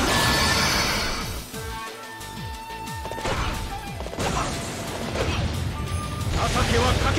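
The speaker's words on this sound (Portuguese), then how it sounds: "Cavalo!" A horse whinnies amid a noisy, chaotic mix of crashes and impacts in Warriors Orochi 3 Ultimate Definitive Edition, with a voice talking over parts of it.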